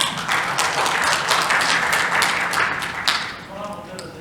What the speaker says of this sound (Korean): 온라인 오신 분들께도 박수 한번 주시기 바랍니다